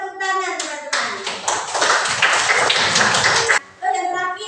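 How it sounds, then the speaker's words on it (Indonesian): Group of students in an Indonesian classroom clapping together for a team that just presented, a dense burst of hand claps lasting a few seconds with voices around it and someone talking before and after. "Beri tepuk tangan teman-teman."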